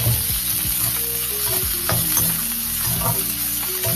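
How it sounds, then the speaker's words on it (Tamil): Carrot sautéing with onion and green chili in a hot pan, a continuous close sizzle with repeated spatula stirs and scrapes, loud and steady with no talking. "நல்லா வதங்கட்டோன்னு கேரட்டை போட்டு கொஞ்சம் வதங்கணும்."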